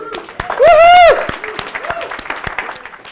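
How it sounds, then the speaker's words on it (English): A conference audience applauds after a talk on retail customer loyalty with brisk, scattered clapping. A single loud, rising whistle-like cheer cuts through near the start, and the clapping continues at moderate strength to the end. "So big applause for women."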